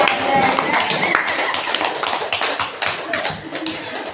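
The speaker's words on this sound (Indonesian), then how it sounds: "Mari kita tepuk tangan." A group claps together in a school classroom, a dense, steady patter of many hands lasting several seconds at close range, with voices talking underneath.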